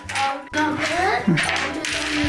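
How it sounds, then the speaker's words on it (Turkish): Coins from a piggy bank being counted, loose metal pieces clinking and jingling close by in quick bursts, with a brief pause in the middle. "Şimdi bozuk paraları sayalım."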